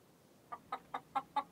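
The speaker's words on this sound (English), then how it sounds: "And some hens." Cartoon hens in a vegetable garden give five short, evenly spaced clucks in quick succession, clear and close with nothing else behind them.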